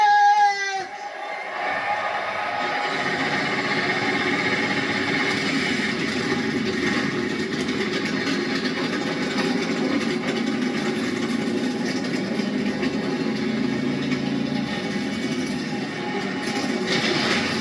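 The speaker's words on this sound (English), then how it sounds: "Drivers, start your engines!" NASCAR stock car engines fire up at the Daytona 500 into a sustained, dense roar that holds steady from start to end, with a whining mechanical tone at the outset and crowd noise mixed in underneath.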